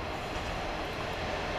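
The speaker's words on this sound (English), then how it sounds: "coming in now the 1410 Northern Rail service from Todmorden through to Wigan Wallgate by Manchester Victoria" The 14:10 Northern Rail service from Todmorden to Wigan Wallgate via Manchester Victoria pulls into Rochdale station, a steady broadband rumble and hiss of the approaching train, loud and even throughout, no voices.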